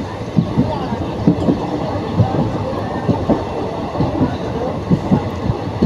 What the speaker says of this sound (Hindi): ये ट्रेन ऊपर चढ़ने लगी है